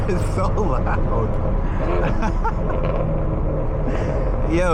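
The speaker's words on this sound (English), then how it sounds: "Yo, this car is so loud." Engine rumble of a loud car at a night car meet, deep and continuous beneath excited voices of people talking nearby.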